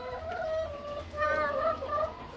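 Hens on a small-scale poultry farm cluck softly in a short run of calls, fairly faint against a quiet background.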